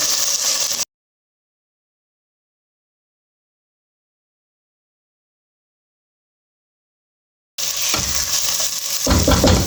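Tomatoes added to a pot for vegetable and chicken soup over a very low flame give a dense, close sizzle with stirring, heard in two bursts separated by a long silent gap.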